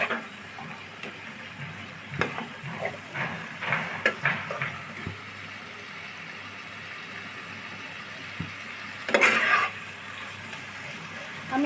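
Spice paste for chicken roast is slowly sautéed in a pan, a soft sizzle with intermittent spatula stirs and scrapes, one louder scraping burst near the end, at moderate level with no clear speech.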